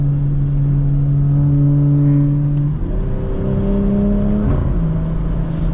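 A BMW 340i with its B58 engine pulls hard under acceleration, a loud, steady drone that climbs in pitch, drops briefly on an upshift, then climbs again, heard close from inside the car with no talk.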